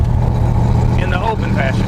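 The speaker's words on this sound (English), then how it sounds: "So here's the exhaust in its streetable fashion." A Dodge Dart drag car idles through its street-legal exhaust with a steady, deep, loud rumble while someone talks over it.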